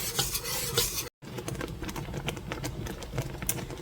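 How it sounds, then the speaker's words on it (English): Peach jam being stirred continuously in a pot as it heads toward a boil, a close, steady scraping and swishing with a faint bubbling sizzle, briefly interrupted by a short silent gap. "But you want to keep stirring this continuously"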